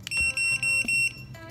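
Hospital pager ringtone beeping in bright, repeated electronic bursts, three or four quick pulses close by, then a softer tone as it changes setting.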